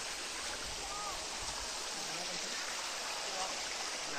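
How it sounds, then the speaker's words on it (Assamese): Clean cold water flows in a hillside stream, making a steady, soft rushing and babbling that stays even throughout, with a voice faintly in the background. "চেঁচা চেঁচা পানী আহি আছে পুৰা বহুত ভাল লাগিছে পানীখিনি পুৰা চাফা পানী পুৰা পানী বৈ আছে"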